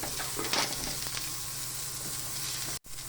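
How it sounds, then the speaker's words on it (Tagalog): Garlic and onion sautéing in oil in a pan for sardine dish, a close, continuous sizzle with a few utensil scrapes and clicks, ending in a brief cut of silence, no speech. "Magigisa na po tayo ng bawang."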